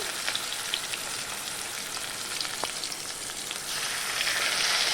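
Fish frying in hot oil with whole garam masala over a lowered flame, a steady close sizzle and crackle running throughout and growing slightly louder toward the end.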